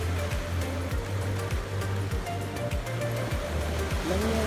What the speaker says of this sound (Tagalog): Yung dagat